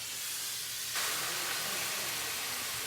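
Fresh tomatoes for shakshuka hit a hot pan with a steady hiss that swells into a brighter, louder sizzle about a third of the way in and then holds steady.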